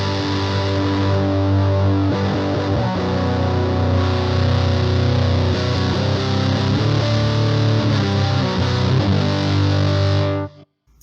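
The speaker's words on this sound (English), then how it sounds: "this holds its own as an overdrive, a distortion, and almost a fuzz" An electric guitar runs through a ProCo RAT distortion pedal with heavy gain bordering on fuzz. Loud saturated chords and notes sustain for about ten seconds, then cut off abruptly.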